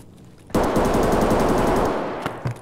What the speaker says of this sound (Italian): Chi è che spara così?